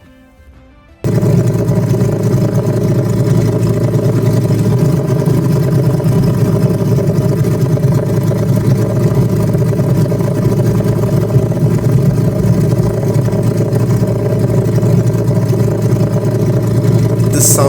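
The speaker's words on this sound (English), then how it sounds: "The engine sounds have been worked quite well and sounded genuine." A loud, steady engine drone holds constant throughout after a brief quiet start, a rough rumbling piston-engine tone of a Dorand AR-1 vintage aircraft in Microsoft Flight Simulator 2020, with no voices.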